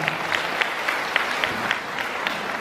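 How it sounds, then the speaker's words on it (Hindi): An audience at a community gathering of the Agariya society gives welcoming applause for a speaker, a soft, even rush of clapping with a few sharper claps standing out, heard from some distance. "जोरदार तालियों से स्वागत सर का"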